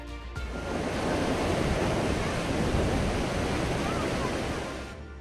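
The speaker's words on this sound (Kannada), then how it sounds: "ಬೆಳಗಾವಿ ಜಿಲ್ಲೆ ಚಿಕ್ಕೋಡಿ ತಾಲೂಕಿನಲ್ಲಿ ಕೃಷ್ಣೆ ಉಕ್ಕಿ ಹರಿಯುತ್ತಿದ್ದಾಳೆ" Floodwaters of the Krishna River overflowing in Chikkodi taluk, Belagavi district, Karnataka, roar as a steady, loud broadband rush of churning water that holds evenly for several seconds, with no voices over it.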